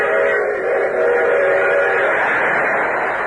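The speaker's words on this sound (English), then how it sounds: "day and night freight trains rush toward the Hudson River" A freight train rushes past as a radio serial sound effect, a loud continuous rumble and roar with a sustained whistle-like tone over it, close and unbroken throughout.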